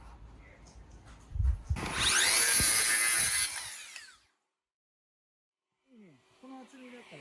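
A circular saw trims a thin blade width off a wooden stud, a loud high whine rising for about two seconds then cutting off, followed by silence and a brief voice near the end.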